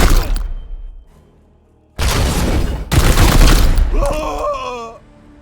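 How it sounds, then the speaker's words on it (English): Gunfire bursts in the Warhammer 40k Chaos Gate Daemonhunters video game: a loud volley rings out, a brief lull follows, then two heavy rolling bursts of shots, with a groaning voice rising near the end. "Opening fire."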